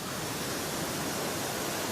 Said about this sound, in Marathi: या धबधब्यामुळे आपल्याला मोठ्याने बोलायला लागणार आहे